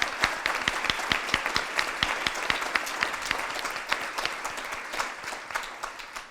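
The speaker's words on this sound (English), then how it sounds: "Would you give them all a round of applause as well?" An audience at a student-produced abortion policy event applauds the teachers and student ambassadors, steady clapping with distinct sharp individual claps standing out, gradually thinning toward the end.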